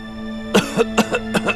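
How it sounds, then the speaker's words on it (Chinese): A series of about five sharp coughs, close and fairly loud, in two uneven bursts with brief pauses between them, no talking. "奴才这几天偶感风寒，一直咳嗽不停"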